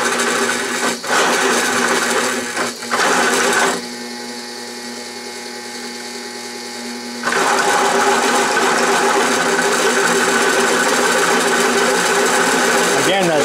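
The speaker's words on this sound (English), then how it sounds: "And it is drilling all right" A drill driven by a slow-speed DC motor bores a large hole, giving a continuous grinding, rasping churn that drops to a quieter motor hum midway, then returns to full cutting noise.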